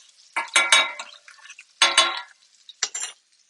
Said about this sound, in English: Give our red currant demi-glaze a little spin.